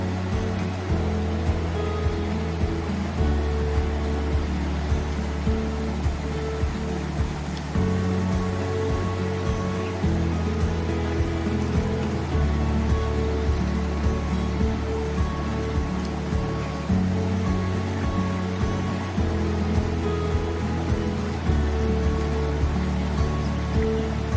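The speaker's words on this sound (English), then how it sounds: "Interesting spot where Holcomb Creek crosses the road, so I guess you would just have to drive right through it" Holcomb Creek runs across a dirt road on the Pacific Crest Trail, a continuous close rush of flowing water with a low churning undertone, steady and without talk.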